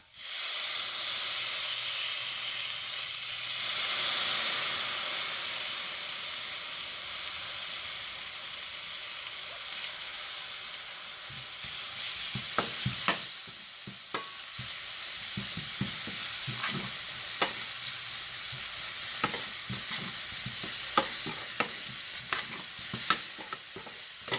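Drumstick leaves dropped into a hot pan of toasted spice powders for rasam, a broad hissing sizzle that swells then settles, followed by repeated scraping strokes of stirring close up.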